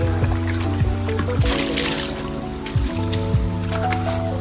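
Water hisses and splatters as it is sprayed into a Honda motorcycle during washing, over a steady mechanical hum with a repeating drone, constant and close.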